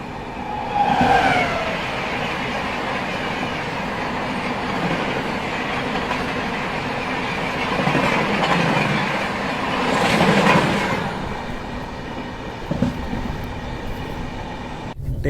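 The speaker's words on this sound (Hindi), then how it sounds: "देखो बगल से मालगाड़ी क्रॉस हो रही है" A freight train rolls steadily past alongside a moving passenger train, a continuous rumble and rattle of wagons with faint clatter and a few sharper knocks, loud and sustained throughout.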